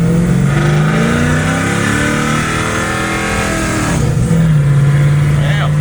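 A 1963 Chevy C10 pickup with a swapped 5.3 LS V8 cruises in third gear, its engine humming steadily and up close, with a brief dip and rise in pitch midway, while someone talks over it.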